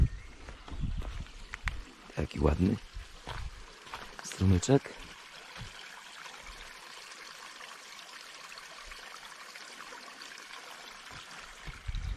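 A stream burbles and trickles steadily in the background, with a few brief bursts of talking and handling noise near the start.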